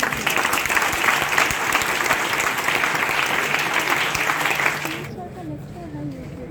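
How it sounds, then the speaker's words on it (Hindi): At a Teacher's Day celebration at GMCH Bettiah, an audience gives a loud, sustained burst of applause that stops abruptly after about five seconds, leaving a quiet room with a voice beginning to speak. "एक बार जोरदार तालियां हो जाए।"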